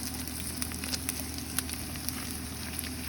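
Onion fries in a pan for lomo saltado, sizzling in a steady, close hiss with faint crackles and pops scattered through it and no talking.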